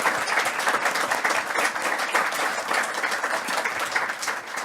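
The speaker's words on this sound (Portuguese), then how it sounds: "E peço o vosso aplauso para ele." Steady audience applause at a Portuguese-language talk about Macau, a dense, even wash of many hands clapping at close range with no talk over it.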